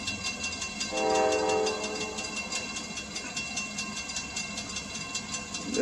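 A CSX freight train rumbles past steadily, its horn sounding one short blast near the start over the continuous rolling clatter of cars.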